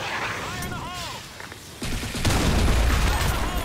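Shotgun blasts ring out in the BlackShot first-person shooter, a sharp burst of fire followed by a heavier, louder stretch of rumbling shots toward the end.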